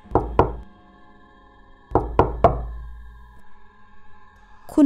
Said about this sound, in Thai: จู่ๆเสียงประตูห้องก็ดัง